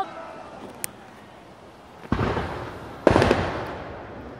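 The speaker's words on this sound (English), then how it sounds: "Oh, anticlimactic fireworks?" Two fireworks bursts during a July 4th display in Ridgewood, each a sharp boom with a crackling, rumbling tail, heard from a moderate distance after a quiet stretch with one faint pop early on.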